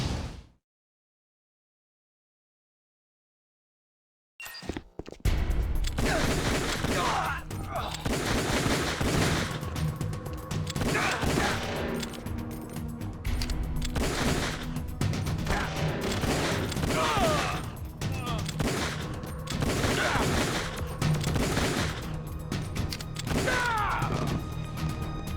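Gunfire in the video game Metal Gear Solid The Twin Snakes breaks out after a few seconds of silence, a long dense barrage of loud rapid shots and bursts with clanks and impacts mixed in.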